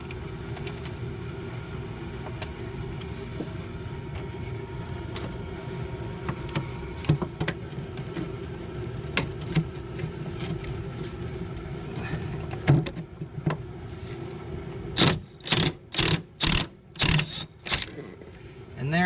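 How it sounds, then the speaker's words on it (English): A 13 mm wrench working loose the two upper nuts of a Nissan Altima rear strut. A steady workshop hum carries through, then a run of about five sharp, rhythmic ratcheting bursts near the end. "And with a 13 mil, we're going to remove those 2 nuts up there."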